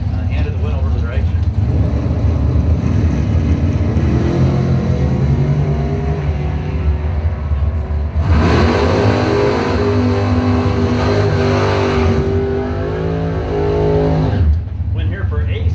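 Drag racing cars at a Mopar bracket event roar and rev at the strip, loud engines surging and fading while an announcer talks over them.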